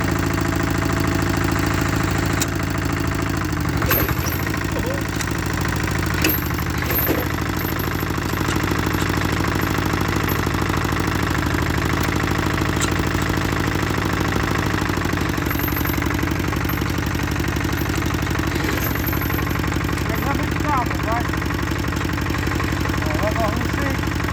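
A Kubota mini tractor engine idles with a steady mid-pitched clattering chug that runs loud and constant throughout, with a few sharp knocks and clanks on top.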